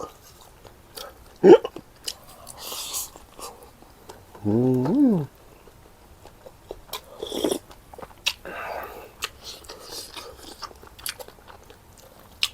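Someone eats spicy stir-fried catfish, making a few distinct crunchy bites and chewing sounds close by, with quiet gaps between them and faint background noise.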